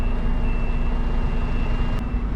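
A truck's reversing alarm sounds while the truck backs into a tight parking spot between close cars, as a steady tone over heavy, continuous engine rumble.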